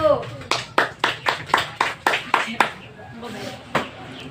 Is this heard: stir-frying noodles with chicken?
no